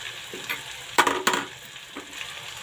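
Radish being stirred in an oily pan, a soft steady sizzle broken by a few sharp scraping clacks of the spoon against the pan, close and clear with no talking.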